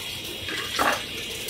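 Running tap water as a barista washes used utensils, a short steady wash of water with a brief louder splash in the middle, close and alone.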